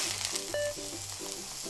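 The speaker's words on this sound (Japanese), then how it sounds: "これは蓋をせずに水分をちょっと出しながら焼いていきます。" Enoki mushrooms grill uncovered in a frying pan, giving off a steady, close sizzle with a soft tonal hum running beneath it.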